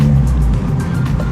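Cars rumble past on a Monaco street near the casino area among supercars and scooters, a short, close burst of engine and road noise.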